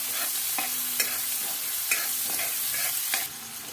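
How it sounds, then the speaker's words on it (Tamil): Onions with turmeric sauté in a pan, giving a steady close sizzle with light, rhythmic scraping of a spoon stirring every half second or so, and no talking. "நான் வெங்காயத்தோட மஞ்சத்தூளும் போட்டேன். இப்போ ஓரளவுக்கு வதங்கிடுச்சு."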